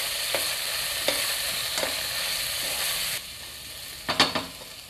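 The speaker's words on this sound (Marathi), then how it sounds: "गोडा मसाला, हळद आणि हे काळं तिखट घालायचे आणि पुन्हा 1 मिनिट परतून घ्यायचे व्यवस्थित" Goda masala, turmeric and chili powder sautéing in hot oil for dal khichadi: a steady close sizzle with a few soft spatula stirs and scrapes, then a quieter sizzle and a louder clatter of stirring near the end, with no talk.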